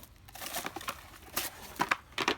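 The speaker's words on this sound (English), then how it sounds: "We'll then take a little bit of Reynolds wrap." Reynolds aluminium foil being crumpled and wrapped around an apple tree graft, irregular crinkling bursts close by, fairly quiet, with no talking.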